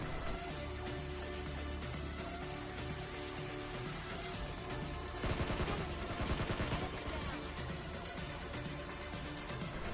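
Gunfire in the mobile shooter game PUBG Mobile Lite sounds as a dense, continuous burst of rapid shots over a loud game soundscape, with a sharper flurry midway through.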